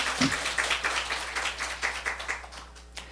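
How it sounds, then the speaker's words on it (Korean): A church congregation at a Sunday service claps in a short, uneven burst, individual claps audible as distinct hits that gradually thin out, fairly faint in a large room. "먼저 말씀 주신 하나님께 박수 한번 올려드려요"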